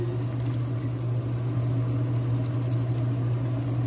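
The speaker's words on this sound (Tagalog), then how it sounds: "lagyan na natin ng konting sabaw para maluto pa siya" Broth pours steadily into a pan of kinamatisang manok, Filipino tomato chicken stew, a close, constant liquid rush over a low steady hum, with no speech.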